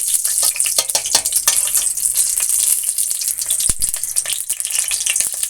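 Nigella seeds hit hot mustard oil and set off a loud, close, crackling sizzle. Sharp pops break through the continuous hiss now and then.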